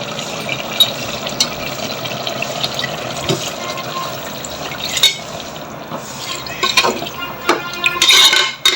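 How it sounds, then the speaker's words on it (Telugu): Water poured into a pressure cooker while making boti curry, a steady splashing, trickling fill with occasional metallic clinks of the pot, close and fairly loud throughout. "చూడండి ఇప్పుడు నీళ్ళు వేస్తాను."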